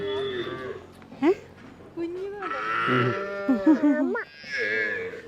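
Several young cows moo close by in long, drawn-out calls, some low and some rising higher, one after another with short pauses between.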